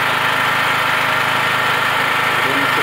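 A generator set runs steadily while powering a Multipro MIG MMA TIG 160 welding machine, a loud continuous engine drone with no breaks.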